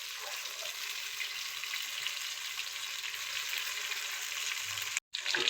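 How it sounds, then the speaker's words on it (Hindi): Chicken pieces fry in a pan over a medium flame, giving a continuous dense sizzle at even loudness that cuts out abruptly for a split second near the end before resuming. "चिकन है जो ना, इनको 12 मिनट पकाएंगे। 6 मिनट उस साइड पे, 6 मिनट और साइड पे।"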